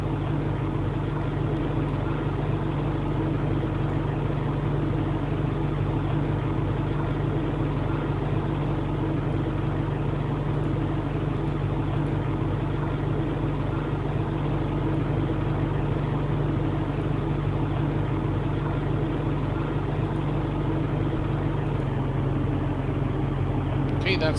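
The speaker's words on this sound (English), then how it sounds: "Start engines." Douglas DC-6 piston engines running in the X-Plane flight simulator, a steady loud low drone with a constant hum throughout, shifting slightly near the end.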